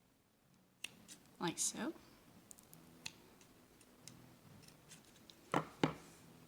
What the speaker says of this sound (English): I'm going to come through and cut the loops